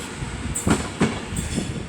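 A train pulls away from the platform at Crewe station, a steady rumble of rolling stock with a few rhythmic thumps and clanks from the wheels over rail joints, fairly close and with no voices.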